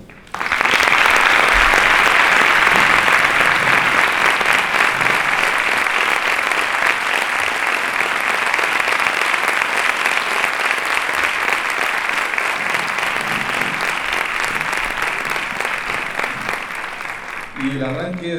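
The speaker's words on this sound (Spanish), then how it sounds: "vamos a recibir con un gran aplauso emocionado a nuestro director Rafael Rebollo Orden." A concert audience in Villanueva del Ariscal breaks into sustained, dense applause for the conductor at a Holy Week concert, loud and steady for many seconds before tapering slightly at the end.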